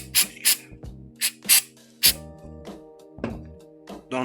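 Spray activator is spritzed onto freshly applied super glue in a few short, sharp hissing bursts, each under half a second, spaced irregularly over a steady background of sustained tones.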